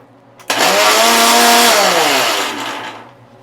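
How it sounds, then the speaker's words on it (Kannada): A mixer grinder whirs loudly for about two and a half seconds, starting abruptly, its motor pitch rising then dropping as it winds down. "ಇದನ್ನು ಮಿಕ್ಸಿಗೆ ಹಾಕ್ಕೊಂಬಂದ್ಬಿಡೋಣ"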